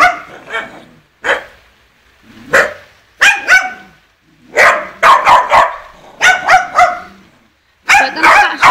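Several dogs bark loudly and close by in repeated clusters of sharp barks and yips, separated by brief quiet gaps.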